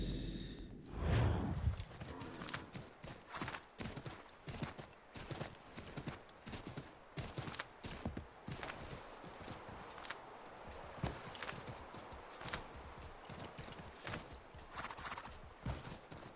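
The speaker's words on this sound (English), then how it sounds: "I'm sure he won't mind if I go on his horse." Rhythmic clip-clop of horse hooves trotting along in the video game Assassin's Creed III, with a horse whinnying near the start; no one speaks.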